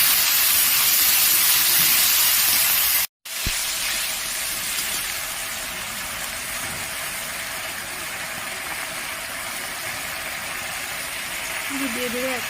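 Ginger-garlic paste hits hot oil with deep-red fried onions, giving a loud, steady sizzling hiss that cuts out briefly near the start, then carries on evenly with a faint voice in the background.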